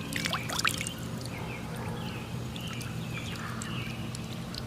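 Water splashing and trickling in a child's backyard pool, a steady wash of gentle pouring and dribbling with faint bird calls and a low hum beneath.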